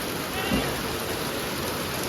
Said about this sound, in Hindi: बारिश चालू हो गई है